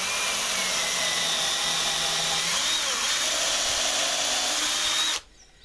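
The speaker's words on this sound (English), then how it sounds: "Drill up through there, and some of you will have seen the repair on this AEG drill." An AEG electric drill bores steadily through dry oak, a loud continuous whine that dips slightly in pitch midway under load, then cuts off sharply near the end, leaving near silence.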